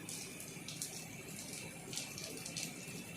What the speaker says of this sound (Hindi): इससे पानी एयर भी निकल रहा है और वाटर भी निकल रहा है